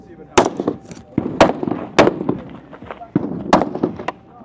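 Rifle shots at a tactical shooting competition stage in Idaho, fired from a wooden barricade: several sharp reports with echoing tails, spaced about a second apart, a voice speaking among them.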